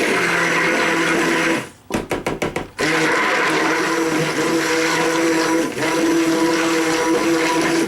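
Blender whizzing an apple cinnamon vegan silk soap mixture, a loud steady motor whir interrupted by a short stuttering burst of pulses before resuming its continuous hum.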